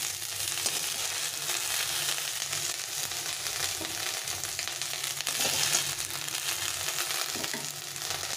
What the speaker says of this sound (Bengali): এখন আমি শাকটাকে দিয়ে ভেজে নেব